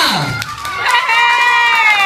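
Crowd cheering and shouting with scattered clapping for a contestant at a dance-and-kiss party event, a loud, continuous wash of voices with a few bright whoops and thuds rising and falling over two seconds.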